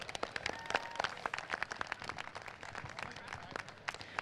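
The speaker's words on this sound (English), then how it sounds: "Can everyone give all of our riders a huge round of applause?" An audience at a Pony Club equestrian event applauds the riders, scattered sharp hand claps forming a light, quiet patter heard from a distance outdoors.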